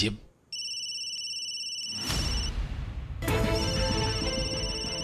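A phone ringtone chimes with steady repeating tones, then fuller electronic music-like ringing joins partway through, fairly loud and close.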